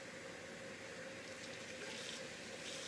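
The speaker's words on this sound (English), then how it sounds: "then I'm going to do the same for water, so half a cup of water" Half a cup of water pours into a sourdough starter, giving a steady, even rush of liquid that holds alone for about three seconds with no talk.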